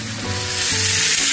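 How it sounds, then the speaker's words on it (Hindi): Garlic cloves frying in a pan for an eggplant curry, a loud continuous sizzle heard up close and alone. "एहिमे पहले लहसुन भूजल जा रहल छै।"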